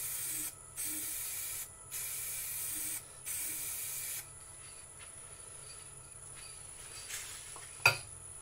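Melamine lacquer sprays onto a hollowed, turned wooden vase spinning slowly on a lathe, in four hissing bursts with short gaps, then the spray stops and only a low machine hum with a small knock remains.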